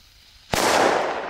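A loud firecracker goes off in a single sharp, close blast, then a rumbling tail fades over about a second.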